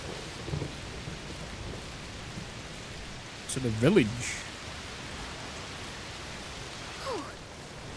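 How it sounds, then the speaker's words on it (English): Steady heavy rain hisses faintly in a video game, with a brief low thunder rumble; a voice speaks a few words midway and again near the end. "Oh, it's raining a lot."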